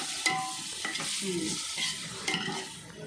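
Food sautéing in a pan during village-style cooking, a soft sizzle with quick stirring scrapes and clinks, close and brief, with no voices.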